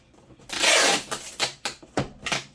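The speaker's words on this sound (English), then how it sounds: "we're going to cut up the seam once so we can get that second layer" Scissors slicing up the seam of a bundled resale item, a long rasping cut followed by several short snipping strokes, close and fairly loud with no talk.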